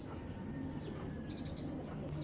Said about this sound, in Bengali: অনেক সুন্দর একটা কবুতর।